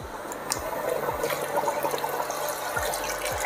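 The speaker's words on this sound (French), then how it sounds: "on va venir mouiller avec 50 centilitres de fond de veau" Veal stock poured into a pot of beef confit with cloves and nutmeg, a steady close liquid splash and trickle running continuously without pause.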